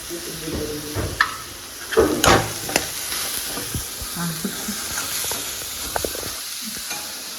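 Potatoes and spices sizzle softly in a pan while a spoon stirs and scrapes them now and then, with a few louder clatters.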